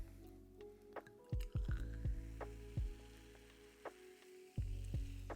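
Fever-Tree tonic water is poured into a cocktail glass holding a Negroni made with Free Spirits gin and Milano, giving scattered close, wet fizzing drips and plops with a soft hiss, quiet overall.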